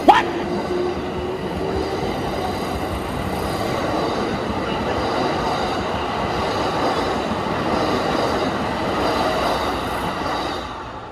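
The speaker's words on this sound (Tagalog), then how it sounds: "Naabangan na namin yung train." A train pulls into a station in Nara, Japan, with a loud, continuous rumble of wheels and cars filling the whole stretch, and a brief squeal at the start.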